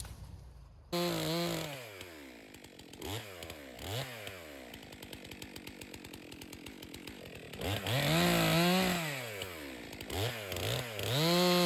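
A chainsaw cuts softwood firewood, idling and then revving loudly up and down through repeated cuts, close by with a continuous engine whine and no talk.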